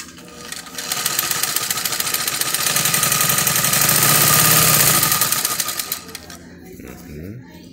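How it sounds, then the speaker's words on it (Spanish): An old black Singer sewing machine in good condition sews with a rapid, steady mechanical clatter. The sound is close and loud, runs for about five seconds, then stops. "Ya la puntada la hice y está cosiendo perfecto."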